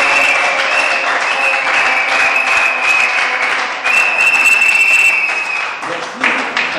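Wedding guests at a French-language civil marriage ceremony applaud the couple's coaches, sustained clapping from a crowd, fairly loud and steady, with a brief dip before it swells again and tapers off.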